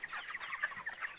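Broiler chickens clucking in a poultry shed during cold winter weather, a dense, continuous chorus of overlapping clucks and chirps from many birds close by, with no talk.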